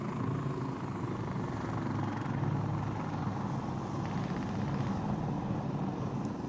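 A helicopter in a first-person shooter video game hovers overhead with a continuous, loud rotor thrum and engine drone, steady throughout without other sounds.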